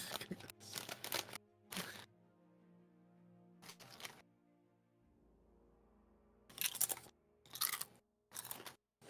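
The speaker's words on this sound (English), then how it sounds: "Sorry if you guys hear crunching, but all I have are kettle chips, which are notoriously very loud." Someone crunching kettle chips close to a microphone during a tabletop role-playing session, with several sharp bursts of loud crunching separated by quiet gaps and faint background hum.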